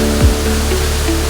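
A free, cool waterfall at Infanta roars as a steady, broadband rush of falling water, continuous and fairly loud, with a brief low thump near the start and no one speaking.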